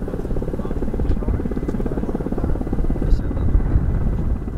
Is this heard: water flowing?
no